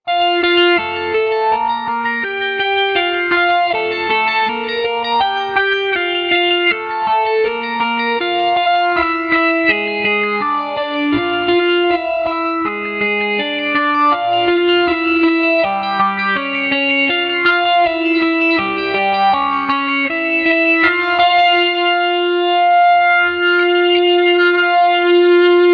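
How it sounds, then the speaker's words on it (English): An electric guitar runs through a whammy pedal set to an octave-up harmony, plus delay and a Phase 90, giving a twinkly, swirling line of sustained notes that plays alone, bright and washed in echo. "in patch A, we're using the whammy pedal. It should be on. The delay and phase 90."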